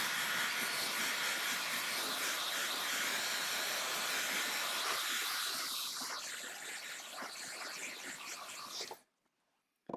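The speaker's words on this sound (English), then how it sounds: "One more blow dryer." A hair dryer blows with a steady, airy roar for about nine seconds, softening slightly near the end before cutting off abruptly.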